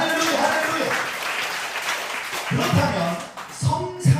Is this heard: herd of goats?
no